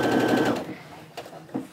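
A sewing machine runs in a short, steady whir while stitching quilt strips, stops after about half a second, and is followed by a few faint clicks and handling sounds.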